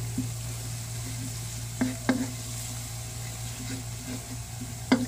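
Butter or margarine melting in a pan before garlic buttered shrimp, a soft steady sizzle with a low hum underneath and a few light stirring clinks of utensil on pan.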